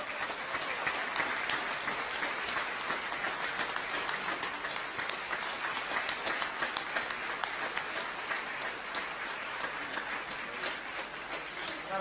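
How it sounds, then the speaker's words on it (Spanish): Sustained crowd applause from a large audience at a political speech by Cristina Kirchner at Comodoro Py, dense steady clapping that continues evenly without a break, with no voices rising above it. "Y un aplauso para él."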